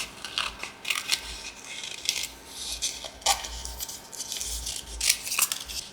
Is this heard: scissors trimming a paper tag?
yes